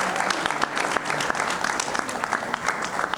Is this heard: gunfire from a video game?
no